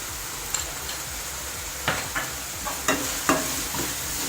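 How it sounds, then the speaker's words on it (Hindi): Onion masala frying in a pan for dhaba-style paneer masala, a steady sizzle broken by several distinct spatula scrapes and knocks against the pan as it is stirred. "इसे चलाएंगे। प्याज को हम थोड़ा रेड होने देंगे।"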